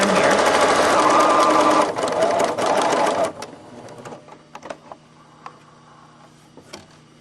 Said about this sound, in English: So I back stitched at the beginning, stitched all the way along